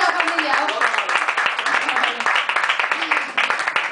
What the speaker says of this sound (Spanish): Gracias, por tanto aplauso